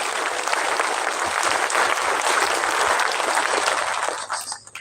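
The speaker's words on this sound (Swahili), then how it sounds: "pigieni Mungu makofi" Applause at a funeral service, a dense sustained clapping from a gathered congregation indoors, loud and steady for several seconds before tapering off near the end.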